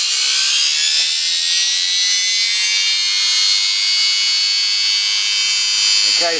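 A homemade rotary transformer motor running on a 12-volt battery bank emits a loud, high, steady whine and buzz that holds throughout, close and noisy, with a faint shift at the very end.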